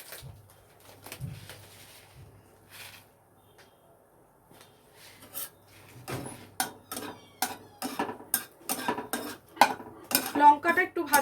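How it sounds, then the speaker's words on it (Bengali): Dried red chillies fry in hot oil in a pan, with faint sizzling at first, then a series of sharp metallic clinks and scrapes of a utensil against the pan, growing busier toward the end. "আমি কিছুটা শুকনো লঙ্কা দিয়ে দিলাম তেলের মধ্যে।"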